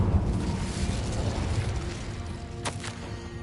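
Incendio fire spell cast in Hogwarts Legacy, a loud fiery burst at the start that fades into a crackling roar, then two sharp snaps near the end.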